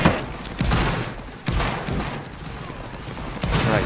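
Massed musket volleys crackle and roar in a Napoleonic battle video game, several broad bursts of gunfire repeating over a few seconds while a player calls out orders.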